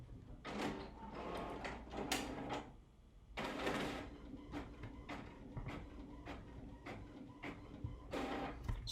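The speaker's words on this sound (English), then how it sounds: "Do you hear it? It's printing." A printer runs off a Priority Mail shipping label nearby, making a series of short, close mechanical whirs and clacks in an uneven rhythm over quiet room tone.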